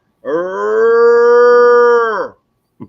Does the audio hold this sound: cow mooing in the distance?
yes